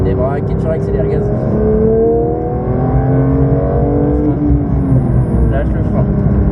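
Race car accelerating on the Dreux circuit, its engine note climbing in steady harmonic sweeps with a dense rumble underneath, close and continuous throughout, with no pauses.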